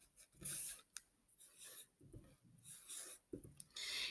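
Pen or pencil strokes scratch and rub across paper in short irregular bursts, quiet and close, as small diagrams are sketched, with no talk.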